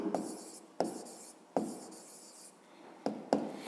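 Math is being written on a board during a grade 5 lesson. Chalk or marker strokes come up close and alone as short scratchy bursts, each with a sharp tap at its start and a pause between words.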